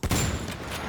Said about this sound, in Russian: Прям в голову ему выстрелим.